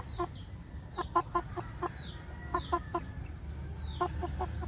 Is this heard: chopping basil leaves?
no